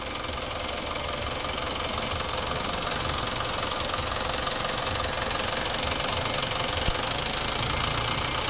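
Isuzu Fuego truck engine with its replacement air compressor running, a steady close mechanical drone with a rapid knocking pulse throughout and no talk.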